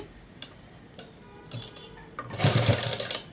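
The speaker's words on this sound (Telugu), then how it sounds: "కొంచెం రబ్ చేసేసుకొని కుట్టుకుంటూ వచ్చేసేయాలి" A sewing machine stitching a dress gives a few short isolated clicks, then a brief louder whirring run near the end, close and clear with no voices.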